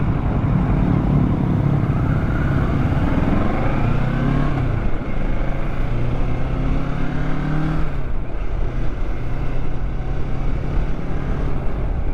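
Kawasaki Ninja 650 motorcycle ridden at speed, a loud continuous engine drone with rising and falling pitch through gear changes and heavy wind rush throughout.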